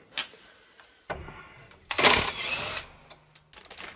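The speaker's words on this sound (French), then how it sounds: "Avec la clé à choc, sincèrement, ça va bien." An impact wrench removes the ball joint nut on a car's front suspension, giving one short, harsh hammering burst in the middle of the clip, with scattered tool clicks and handling noises before and after.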